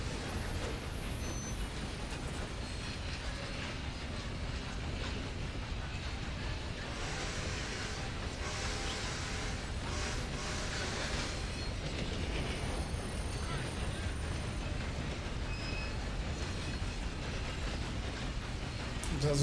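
A steam train passes through an industrial area in the game Red Dead Redemption 2, with a continuous heavy rumble, rattling wagons and hissing air brakes, while players talk over it.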